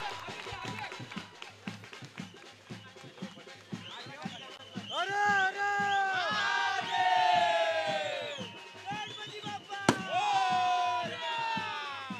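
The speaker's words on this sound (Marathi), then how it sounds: "जोरदार टाळ्या." Crowd at a cricket tournament prize ceremony, the Samvedi Adani Cup 2024, breaking into loud applause and cheering that swells from the midpoint and holds, with an announcer speaking over the noise early on.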